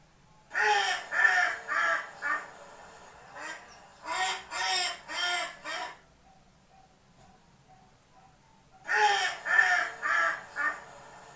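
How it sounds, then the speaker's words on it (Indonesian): A duck quacks repeatedly with loud, nasal calls in bursts of four or five, with short pauses between groups, heard close and without any talking. "Baik, itulah tadi ya suara dari bebek"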